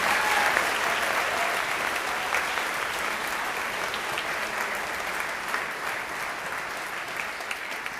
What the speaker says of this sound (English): let's have a round of applause for these wonderful musicians